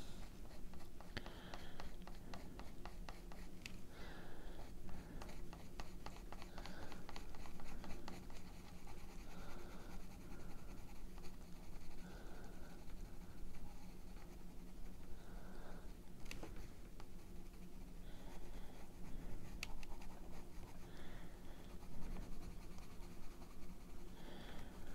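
Bronze yellow colored pencil scratching across paper in steady back-and-forth strokes, a close, continuous dry scraping with small ticks, no talking over it.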